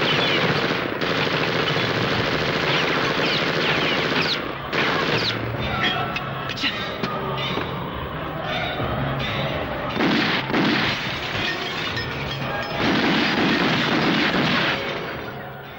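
Gunfire from a Tamil movie scene: loud, close bursts of automatic fire crackle in repeated volleys with short pauses between them, as if several guns fire at once.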